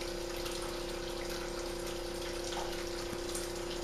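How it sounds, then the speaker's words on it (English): A JOBO ATL2300 film processor pumps water out of bottle 3 with air, giving a steady, continuous watery rush and motor hum with a constant level throughout and no voices. "Now it'll pump out bottle number 3."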